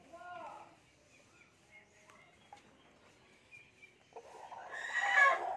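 Chickens cluck and call softly nearby in a quiet setting, with a few brief vocalizations scattered through and a louder burst of squawking near the end.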